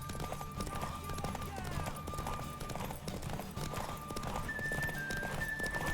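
Steady clip-clop of a horse's hooves from The Witcher 3 video game, with whinnying breaking through amid background game sounds and people speaking over it.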